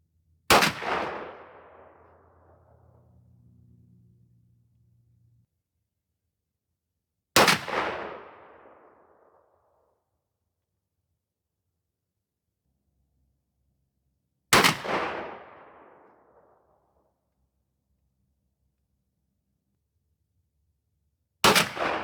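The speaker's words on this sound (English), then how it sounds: "We'll shoot all 4 of our shots through our 4 different chokes" A 12 gauge shotgun fires Hornady Heavy Magnum Coyote 00 buck through different chokes, four loud, sharp blasts spaced about seven seconds apart, each trailing off in a brief outdoor echo, with no talking.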